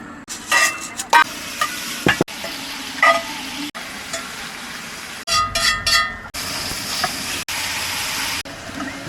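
Shrimp sizzle loudly in a hot pan close by, with steady frying hiss and occasional stirring scrapes and clinks, and no talking.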